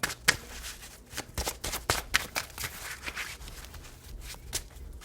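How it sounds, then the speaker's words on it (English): Tarot cards shuffled by hand in close, quick bursts of riffling and flicking, a dense run of crisp papery snaps that thins out toward the end. "Let's go ahead and pull 3 more cards for my collective."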